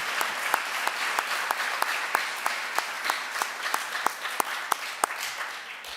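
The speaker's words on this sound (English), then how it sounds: "please join me in applauding their efforts." A graduation audience claps steadily in a school ceremony, a dense wash of applause with a few sharper individual claps standing out, moderately distant and continuous throughout.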